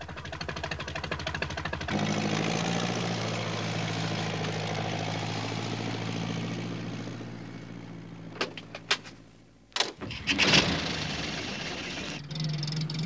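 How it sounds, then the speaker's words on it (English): A farm tractor's engine rumbles steadily through fog, a low continuous drone that holds for several seconds before cutting off, followed by brief clattering and knocks. "It was Alf Thompson on his tractor."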